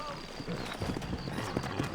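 Horse hooves clip-clop in the video game Red Dead Redemption, a quick uneven trot close by, moderately loud, under background ambience and a voice.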